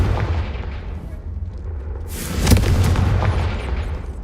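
Confringo blasting curse in Hogwarts Legacy on PS5, a booming explosion over a constant low rumble, with a sharp burst flaring up midway and a rolling roar after it.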